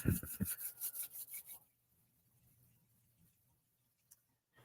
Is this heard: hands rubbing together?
yes